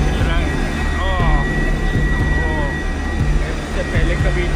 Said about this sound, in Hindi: बिल्कुल बादल के अंदर से फ्लाई करना पड़ रहा है हमें। हेलीकॉप्टर बहुत हिल रहा है।